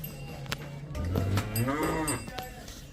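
A freshly calved Jersey cow with small horns on a dairy farm lows once, a long, close moo rising and falling in pitch, preceded and followed by quieter barn noises.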